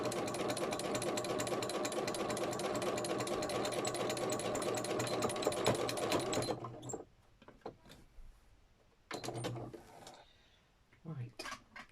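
A sewing machine stitching a traveler's notebook journal cover runs in a loud, steady buzzing whir for about six seconds, then stops. After that come quieter handling noises and brief speech.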